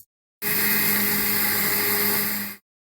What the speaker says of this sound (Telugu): ఇప్పుడు దీన్ని మనము మిక్సీ చేసుకుందాం.